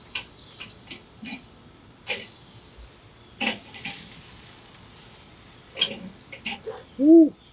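Thick steaks sear on a Weber grill, giving a faint, steady sizzle broken by scattered sharp clicks and taps, with one short tonal sound near the end.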